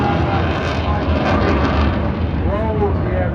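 A Eurofighter Typhoon display jet rolls during a Blackpool airshow routine, a loud, steady engine roar filling the air while a commentator's voice talks over it.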